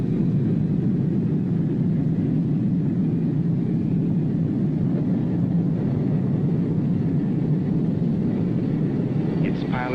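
A medevac aircraft takes off, producing a loud, continuous engine rumble that holds steady throughout the clip. Faint voices may sit under the noise.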